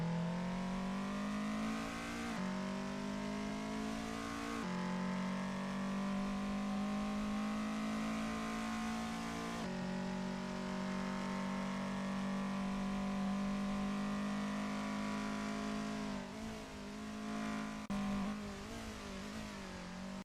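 Race cars lap in a sim racing video game during a golf cup event, a loud continuous engine whine shifting pitch through gear changes and revs, with sudden cuts and re-accelerations near the end.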